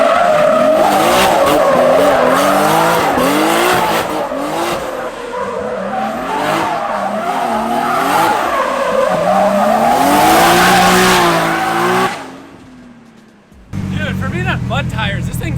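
A Safari-style Nissan GT-R on mud tires drifts on dirt in all-wheel drive, its engine revving and rising in pitch through long slides, loud and close, before cutting out briefly and roaring back.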